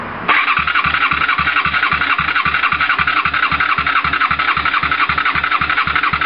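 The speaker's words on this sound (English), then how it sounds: "we're doing a compression test and doing the back cylinder first." A Honda VTR250 V-twin motorcycle engine, under 10,000 miles, cranks over on the starter during a rear-cylinder compression test, giving a loud, steady, fast rhythmic chugging with a whirring starter whine and no talk.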